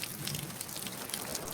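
Rain falls steadily during a cartoon storm, a soft, even hiss of drops on a surface with no voices, faint and continuous throughout.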